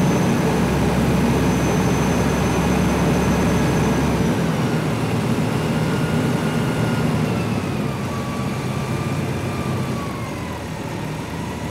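Aircraft engine running steadily and loud throughout, a sustained drone with harmonic tones that shift in pitch as the throttle is advanced, easing slightly toward the end; no voices.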